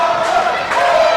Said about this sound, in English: Crowd chanting Mauler.